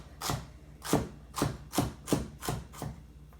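A knife chops vegetables into small dice on a board, six steady thudding strokes spaced about half a second apart, close and clear with no voices.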